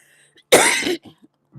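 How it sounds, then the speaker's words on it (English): A single loud, close cough bursts out and fades, followed by faint breathing and the start of a voice. "Sorry about that cough"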